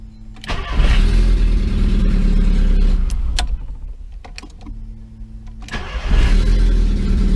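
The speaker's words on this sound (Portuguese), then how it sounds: "Motor de arranque ficou filé, ó." A VW Gol engine is started twice with the starter motor: each time a quick crank catches at once into a loud, close idle rumble, with a brief shutdown between.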